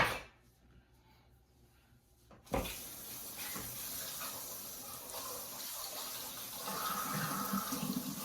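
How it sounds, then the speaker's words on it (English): After a quiet moment, a kitchen sink tap turns on abruptly and water runs steadily for dishwashing, splashing and rising slightly as it continues. "It's time I do dishes."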